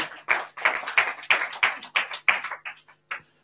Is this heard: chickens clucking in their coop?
no